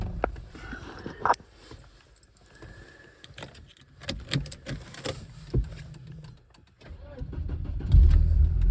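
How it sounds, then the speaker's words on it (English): A Volvo 940 Turbo with the B230FT engine, boosted by a jump starter in snowy weather, is started: jangling keys and clunks precede a loud, low engine catching and running at the end. "Oh yes, it started like a dream."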